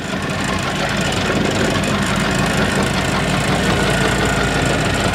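A boat engine drones loud and steady during a boat ride at Bentota, Sri Lanka, a constant close rumble with no breaks and no voices heard over it.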